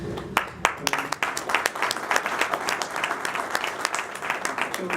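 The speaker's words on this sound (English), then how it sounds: "So those people, you know, really deserve a round of applause." An audience at an evening event with a city councilman breaks into steady applause, a dense wash of many hands clapping at fairly even loudness throughout, with a few sharper claps standing out near the start.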